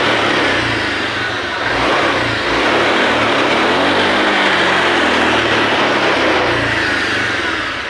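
A Honda Vario 125 scooter engine is blipped repeatedly, the throttle rising and falling in close, loud revs over a steady idle drone, with no voices.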